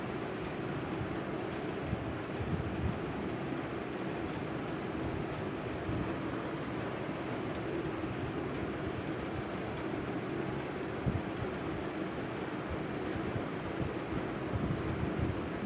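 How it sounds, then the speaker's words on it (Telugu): A mixer grinder runs continuously, grinding tomato with fennel seeds, cinnamon and cloves into masala paste, a loud steady roar throughout. "ఇప్పుడైతే దీన్ని గ్రైండ్ చేసుకుందాము।"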